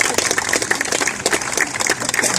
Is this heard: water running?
no